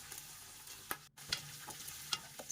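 Lamb tail fat fries in warm oil for kuyrdak, a quiet sizzle broken by a few sharp pops and brief stirring scrapes.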